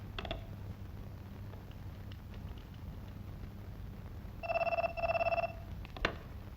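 A telephone rings in two short bursts, a harmonic electronic trill toward the end over a quiet low background hum, with a brief knock just after.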